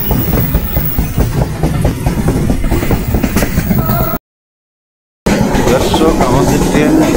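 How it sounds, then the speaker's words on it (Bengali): A passenger train travelling fast from Rajshahi toward Chatmohar, its wheels beating a rapid rhythmic clatter on the rails under a steady roar, broken by a second of complete silence before the running noise resumes. "দর্শক আমাদের ট্রেন দুর্বার গতিতে গিয়ে চলছে"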